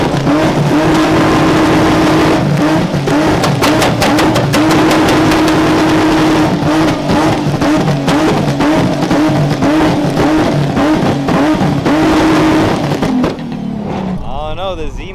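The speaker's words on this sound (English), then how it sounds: "Cars entering this two-step slash rev competition." Cars rev hard one after another at a two-step rev competition during an import car show, a Viper among them, loud and close with continuous crowd chatter and a sustained engine drone ending in a lower settling idle.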